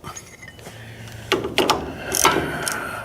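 A ratchet tightening a newly installed steering linkage on a vehicle, giving a few short, close mechanical clicks and cranks in uneven bursts with some handling noise.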